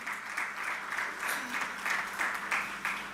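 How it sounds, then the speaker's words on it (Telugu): A church congregation claps loudly during a sermon, a brief, steady burst of many hands with uneven rhythmic swells. "చప్పట్లు గట్టి కొడదామా?"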